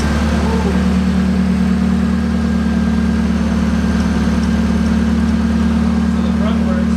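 Loud, steady rumble of a car engine idling close by indoors with no exhaust fitted, a constant low drone throughout.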